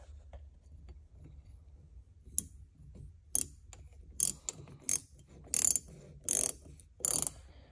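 A wrench ratchets while tightening a hydraulic remote fitting on an IH 966 tractor, a series of sharp metallic clicks and short ratcheting bursts coming closer together, close and fairly loud.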